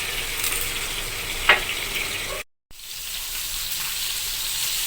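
Dried milkfish (daing na bangus) frying in hot oil, a steady close sizzle with one brief clink partway through and a short gap of silence before the crackling resumes.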